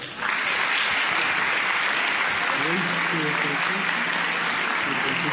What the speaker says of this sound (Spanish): despidámoslo con un fuerte aplauso, por favor